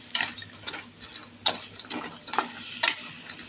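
Idli manchurian fries in a pan while being stirred, giving a soft sizzle with several intermittent scraping strokes of the spoon, fairly close and quiet.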